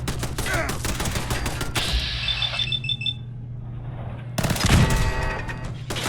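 Turret gunfire in the video game Fallout 4 comes as rapid, loud automatic bursts, pausing briefly before another close volley of shots.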